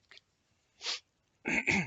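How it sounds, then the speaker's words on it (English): A short burst of coughing from a person with a cold: a faint cough, a pause, another cough, then a louder double cough close to the listener, with no talking. "I do apologise about the coughing."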